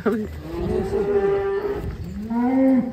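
A cow moos in long, deep calls beside its nursing calf in a cattle pen, two drawn-out lows close to the listener with a short pause between them.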